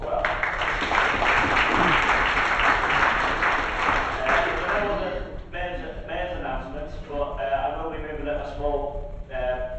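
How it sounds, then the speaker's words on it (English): Council members at a council meeting applaud, a dense burst of clapping that fades after about five seconds into scattered claps, with a voice speaking over the tail end. "I think that deserves a round of applause as well."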